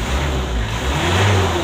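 A 2000 Mitsubishi Kuda GLS engine revs in a brief, steady burst of deep engine roar, close and loud, with a voice faintly present.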